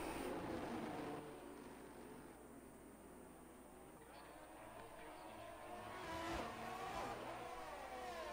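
Formula 1 race cars in a racing video game, engines droning steadily in a pack, with a rising swell of revving toward the end under a commentator's voice.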